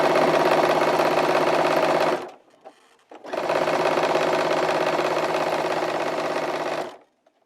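A sewing machine stitching the seams of a fabric bag runs in two long, steady, loud bursts with a brief pause between them, then stops.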